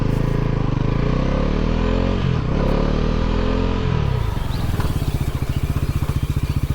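A Bajaj Pulsar NS400 motorcycle in rain mode rumbles loudly up close, the engine note rising and dipping as it rides, then settling into a throbbing idle-like pulse.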